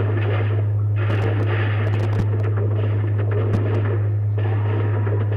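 Slag pistol fire in Borderlands 2, a few sharp game shots punching through a dense, steady wash of in-game background noise with a constant low hum.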